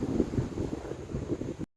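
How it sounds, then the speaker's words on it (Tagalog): Strong wind buffeting the microphone outdoors in a low, gusty roar that rumbles steadily before cutting off abruptly. "Lakas ang hangin."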